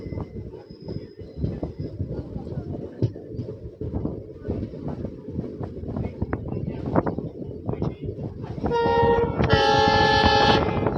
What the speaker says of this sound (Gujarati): ફૂલ હોંકિંગ મિત્રો